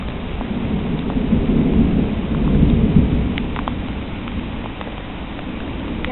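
Thunderstorm outdoors with steady heavy rain and a deep rolling rumble of thunder that swells and fades, dense and continuous with no voices.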